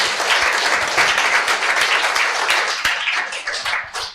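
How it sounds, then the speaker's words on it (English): A room full of conference attendees claps for a solar software panel, steady, dense applause filling the whole stretch with no talking over it. "Just give them a round of applause."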